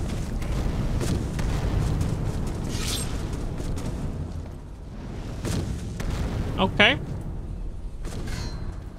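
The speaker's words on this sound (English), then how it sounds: "Big explosions." Big explosions booming in the modded Skyrim role-playing game, broad rumbling bursts across several seconds with a sharper blast near the end, mixed with someone speaking over the game audio.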